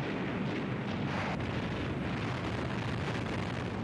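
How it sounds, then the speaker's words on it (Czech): Destroyers and merchant ships of a World War II convoy fire their cannons amid explosions, a dense, continuous roar of blasts and rumbling that stays loud and unbroken throughout. "Všechny torpédoborce a obchodní lodě zahájili palbu z kanónů."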